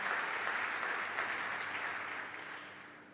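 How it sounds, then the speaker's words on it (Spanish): Audience applause at a Baleària fast ferry presentation, a steady wash of many hands clapping in a hall that gradually tapers off. "A todos ellos y ellas, gracias y un fuerte aplauso también"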